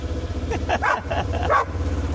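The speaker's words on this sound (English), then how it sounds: "That's a herding dog." A herding dog barks several times in quick, yippy bursts, over a steady low rumble of an engine or machinery outdoors.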